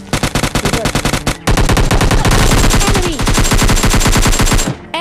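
Rapid automatic gunfire in a battle royale mobile game fight, a long run of close, loud, dense shots with a brief break before another sustained burst, nothing else audible over it.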